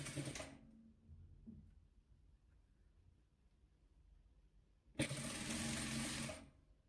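A sewing machine stitches fabric patches together for a patchwork quilt in two close, loud bursts of fast whirring: a short one at the start and a longer run near the end, with quiet between.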